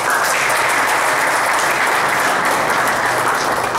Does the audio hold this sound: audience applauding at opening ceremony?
yes